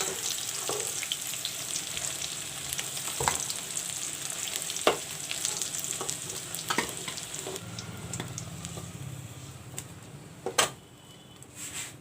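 Green bananas frying in oil for a curry, a steady soft sizzle and crackle with intermittent clicks and light utensil knocks against the pan.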